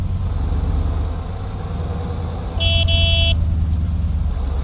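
A steady, droning Scania bus engine in a driving video game rumbles throughout, loud and continuous, with a short electronic beeping tone cutting in briefly partway through.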